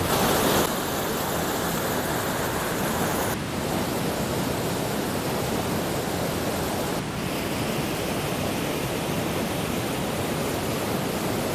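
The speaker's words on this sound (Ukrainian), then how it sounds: "Водоспад Сукільський верхній." The Upper Sukil waterfall roars in a steady, loud broadband rush of falling water, unbroken and close, with no voices.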